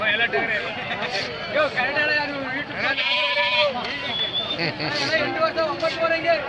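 Sheep and lambs bleat over and over, wavering and overlapping, at a busy livestock market. People talk and a crowd murmurs underneath throughout.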